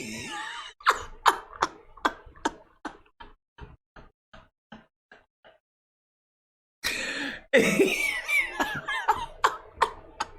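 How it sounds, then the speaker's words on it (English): A robot character in a film gives a series of dry, rhythmic coughs that fade out, then after a pause a louder burst of harsh coughing and throat noises, close and clear. "And then the robot has a cough. Why does a robot have a cough?"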